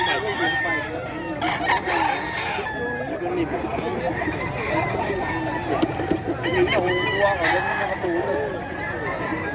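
Roosters and other chickens at a busy outdoor pet market in Bocaue, with close repeated crowing and clucking over a murmur of people talking nearby.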